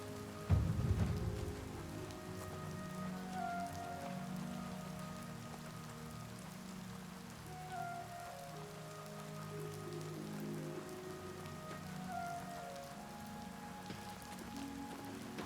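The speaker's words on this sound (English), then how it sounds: "Oh, I realize it's raining." Steady rain patters down in Oblivion Remastered, a soft continuous hiss of drops with a brief low rumble near the start and faint musical tones drifting underneath, no voices.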